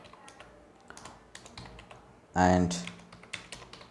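A card number is tapped out on a computer keyboard in quick, close key clicks, followed by one louder clattering burst, while someone talks intermittently.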